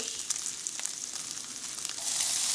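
Onions sautéing in a hot pan for chicken fettuccine, a steady close hiss of frying that swells louder near the end, with no talk.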